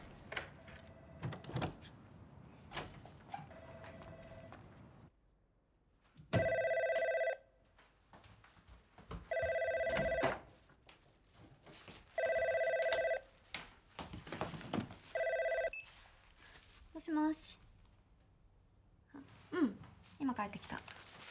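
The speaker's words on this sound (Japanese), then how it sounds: "あ、電話鳴ってますよ。" A landline telephone rings indoors in a Japanese home, sounding in regular bursts of several bell-like rings separated by short pauses, with people talking quietly and doors and other handling noises around it.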